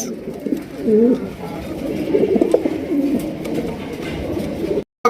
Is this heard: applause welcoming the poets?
no